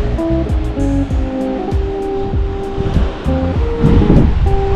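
Ocean surf at a beach in Porto Covo, Portugal: a continuous loud wash of waves with heavy wind buffeting the microphone and a slight swell toward the end, with no speech.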